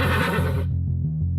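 A zombie horse in an animated jungle animal story gives one short, loud, close whinny that cuts off abruptly after a moment, leaving a low hum.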